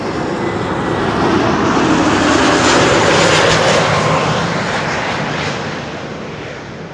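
A JetBlue jet from Boston lands on Schiphol's Kaagbaan runway in Amsterdam, its loud engine roar swelling to a peak, holding, then easing off as it passes.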